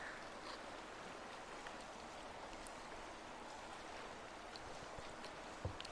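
Flowing water in the video game Uru makes a steady, faint broadband rush with occasional soft drips and splashes, continuous throughout with no talking.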